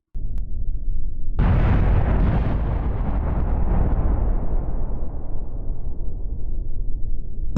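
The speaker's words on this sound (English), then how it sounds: "Those were explosions. That was not lightning. Those were just explosions." A loud in-game explosion in Kerbal Space Program bursts in after a brief low rumble, then a long rolling roar decays slowly over several seconds, heard alone with no talk.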